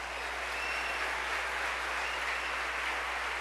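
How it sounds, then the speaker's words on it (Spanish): A church congregation applauds during a sermon, giving a steady, dense wash of clapping that continues evenly throughout without breaks. "Démosle un aplauso fuerte al Señor."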